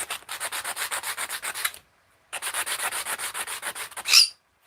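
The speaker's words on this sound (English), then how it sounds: "I'm gonna do the edge with a new piece of sandpaper" Sandpaper rubs along the edge of a workpiece in quick, even back-and-forth strokes. Two bursts of steady rhythmic scratching are separated by a short pause and end with one louder swipe, close up and with no talk.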